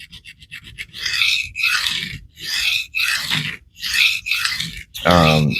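A CPM S3 steel knife stroked across a 120 grit resin diamond sharpening stone, six evenly paced rasping scrapes up close, with a brief voice at the very end.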